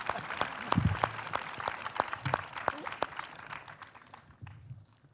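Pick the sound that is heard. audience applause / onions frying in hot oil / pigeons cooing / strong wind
audience applause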